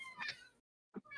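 Several cats meow loudly and close together, two drawn-out cries followed by a short pause and another meow starting, apparently hungry and waiting for food indoors.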